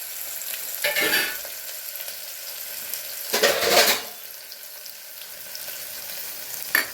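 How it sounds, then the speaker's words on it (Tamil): Sliced onions and curry leaves frying golden in oil in a pan over a low flame, a steady soft sizzle swelling into louder bursts of stirring and scraping at two points, then a brief clink near the end. "ஆனியன் அவ்வளோதாங்க இது பொண்ணு நிறமாக வறுத்துக்கலாம்"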